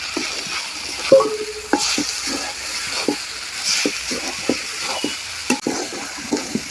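Bottle gourd bhaji frying in a pan with onion and garlic added, a close hiss of oil under frequent rhythmic scrapes and taps of a spatula tossing the vegetables, with no talking.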